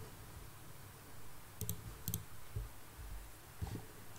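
A computer keyboard gives off a few scattered clicks, quiet and sparse, over a low steady background hum.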